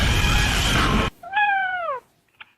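A house cat gives a single clear, drawn-out meow up close, right after a burst of loud broadband noise, followed by a faint brief chirp.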